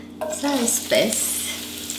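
Vegetables sizzle in a pan on a cooking show while a fish dish in tomato broth is prepared, a soft steady frying hiss running under a woman's brief spoken remark.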